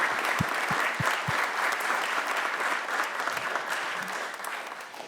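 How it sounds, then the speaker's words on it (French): A room full of people at a municipal public meeting in Edmundston claps steadily, a few sharp nearby claps at the start, then even, dense applause that fades gently toward the close. "Bonne main d'applaudissements."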